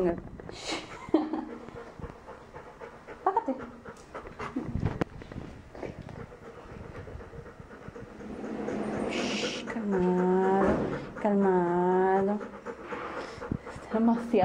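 An excited dog pants loudly and rapidly nearby, with short yips and whimpers, while people talk and call to it in the background.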